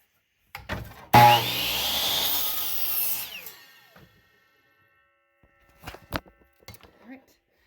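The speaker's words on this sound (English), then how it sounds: "It's too steep to cut with this saw, so I'm just using the miter saw, or the handheld circular saw." A handheld circular saw bites into wood for a hay feeder, one loud whining cut of about two seconds that tapers off, followed by quiet clatter and a few knocks.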